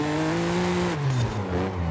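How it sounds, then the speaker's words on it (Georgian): Car in Forza Horizon 5 sliding with a loud, sustained tire squeal and engine whine, the pitch dropping as the slide continues. "ხედავთ მანქანა როგორ ცურავს"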